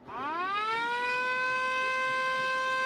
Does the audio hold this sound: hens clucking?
no